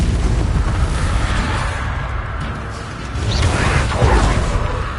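A Confringo blasting spell in Hogwarts Legacy sets off a rumbling, booming explosion with a whooshing swell and crackling debris, loud and continuous and building again near the end.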